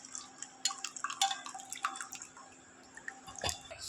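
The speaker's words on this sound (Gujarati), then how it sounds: "ઉકાળેલા પાણીને છે એ ગળણીથી ગાળી લેવાનું." Boiled water with kesuda (palash flower) extract, made for homemade soap, strained through a small kitchen strainer: quiet, irregular drips and small trickles land close by with short gaps between them.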